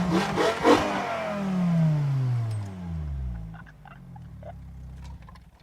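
5-cylinder swapped Mk2 VW Golf GTI, untuned, revving hard as it accelerates past, a loud rising engine howl that sweeps downward and fades away, leaving faint background noise.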